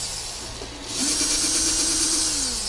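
A power drill boring holes in beekeeping equipment, a steady high whine that rises in pitch and grows louder after a brief start, heard up close with no talk.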